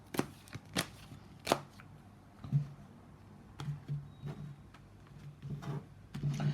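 Soft, irregular riffling and tapping of cards being shuffled and split, a few sharp clicks spaced apart, fairly quiet with no talking.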